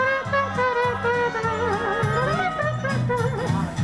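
A voice imitates a muted trumpet, playing a wavering melodic line over a bouncing piano bass and chords in a one-man-band performance. The sound is steady and fairly loud throughout, with no speech.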